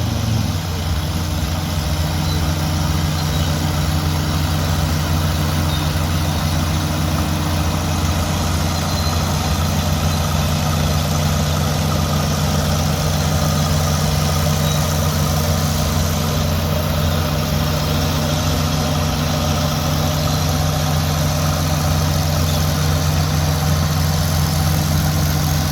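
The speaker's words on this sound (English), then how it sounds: "So that Perkins diesel on board." Oliver 88 tractor fitted with a Perkins diesel, running at a steady low throb and loud, with a continuous even drone and no talking.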